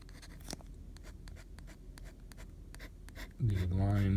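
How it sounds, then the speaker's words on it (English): Metal pen nibs scratch across sparkly, ink-resistant paper in quick, close, short strokes, with a brief soft voice-like tone near the end. "You also hear the sound of the nibs a little bit more on this paper"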